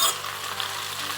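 Chopped onion sizzling in a frying pan for a country-style fried potato and egg dish, a steady close hiss of frying with small crackles and no voices.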